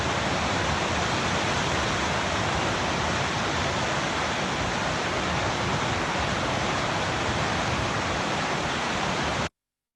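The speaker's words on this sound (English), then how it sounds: "that's a stream that I like to go to in my neighborhood" Neighborhood stream flowing, a steady dense rush of water filling the whole clip at even loudness with no pauses or voices, then cutting off abruptly near the end.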